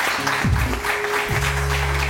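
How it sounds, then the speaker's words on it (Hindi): Audience clapping on a morning TV show set, a brief patter of hands over a low hum and a sweeping tone, with little else audible. "तालियां हो जाए"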